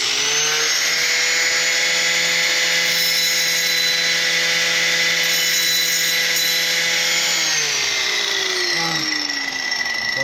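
A loud, sustained whine of a power tool cutting metal during a K20A2 oil pump swap, holding a steady pitch and then winding down near the end.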